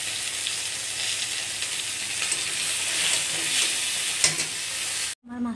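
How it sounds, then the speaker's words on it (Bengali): Fish fries in oil in a pan with a constant, close crackling sizzle and occasional stirring, cutting off abruptly just before the end. "মাছটা ভালোভাবে ভাজা করে নেব।"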